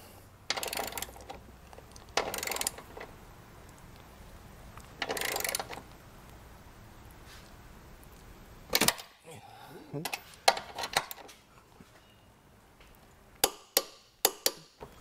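Torque wrench tightening Curt Class III trailer hitch bolts under a 2022 Kia Carnival: a few muffled ratcheting bursts early on, then a series of sharp close metallic clicks and taps toward the end, with quiet gaps between.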